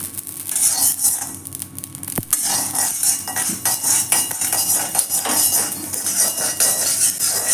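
Mustard seeds splutter and crackle in a hot iron kadai for mango pickle, a dense run of sharp, close pops and sizzling ticks with occasional metallic clinks, with no talking.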